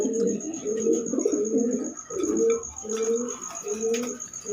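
Pigeons in a loft coo in repeated low, throaty phrases, several bursts in a steady rhythm close by, with a faint high whine running underneath.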